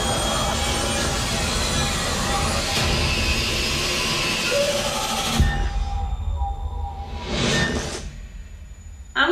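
A jet airliner roars steadily in a horror movie trailer, the dense engine noise holding loud before cutting out abruptly, followed by a quieter swelling whoosh that rises and fades.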